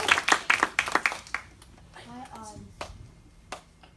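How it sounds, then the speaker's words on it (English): A short burst of clapping from a small group, quick irregular claps for about a second and a half, then fading into quiet room sounds and scattered taps. "Give our next two experts a big round of applause."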